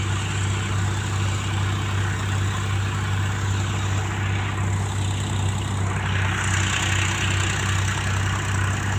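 A tractor engine idles beside a new machine, a steady, unbroken low drone holding at constant loudness throughout, with no talk.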